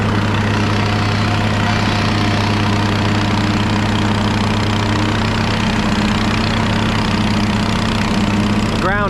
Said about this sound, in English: we do a quick run around with the plate compactor